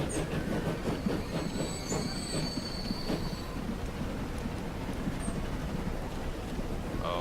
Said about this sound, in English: sounds like both trains are coming in right now